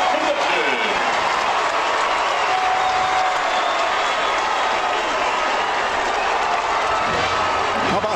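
Stadium crowd roaring and cheering at a Central Michigan vs Florida International college football game, a dense, loud, sustained wash of noise throughout with voices mixed in.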